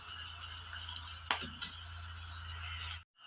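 Cut potatoes fry with sautéed onions in a pan for a Kerala-style potato fry, giving a steady, close sizzle with one sharp clink partway through before the sound cuts off abruptly.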